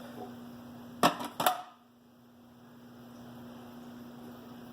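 A blender spins while making mayonnaise from oil: a couple of sharp knocks come first, then a low, steady motor whir that slowly swells and keeps running.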